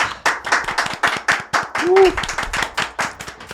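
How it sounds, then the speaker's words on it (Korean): A small audience at a mindfulness talk claps in a quick, close, rhythmic burst of applause that runs on evenly for several seconds, with a brief vocal sound partway through. "오늘 이 자리를 함께 해주신 성우님께 감사의 박수 보내주시면 감사드리겠습니다."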